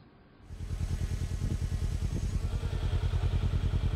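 A motorcycle carrying a father and son starts up and rides off, its engine pulsing in a fast, even throb that grows loud after a brief quiet start and holds steady close to the microphone.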